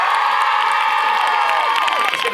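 A stand-up comedy audience applauds and cheers loudly, with high-pitched shouts and whoops over dense clapping that fills the room throughout.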